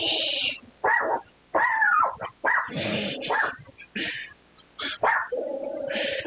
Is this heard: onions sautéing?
no